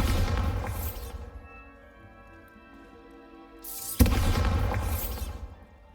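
A Bombarda blasting spell goes off in the Hogwarts Legacy video game: two loud, broad explosive bursts, each with a sharp crack and a rumbling tail that fades over about a second, separated by a quieter stretch of low tones.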